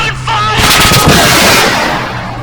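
Rapid gunfire crackles through a Sino-Indian War battle scene in the video game ArmA 3, with dense, loud overlapping shots sustained for about two seconds and no voices over it.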